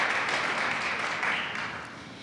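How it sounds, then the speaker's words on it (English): Scattered applause from a crowd at a press conference, a steady wash of clapping that holds briefly and then tapers slightly. "a little bit of applause for this thing would be really nice"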